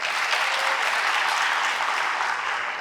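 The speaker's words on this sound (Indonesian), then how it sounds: "Tepuk tangan buat UI." Steady, dense applause from an audience at a talk on Indonesia's economy and millennials, a full wash of clapping that stays even throughout and tapers a little at the close.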